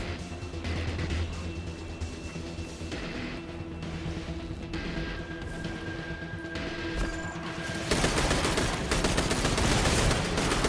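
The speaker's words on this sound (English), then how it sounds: "An auto rifle takes care of them as well." Auto rifle gunfire rattles in sustained, rapid bursts during a Destiny 2 firefight, set against a busy backdrop of game effects and music, growing louder and denser toward the end.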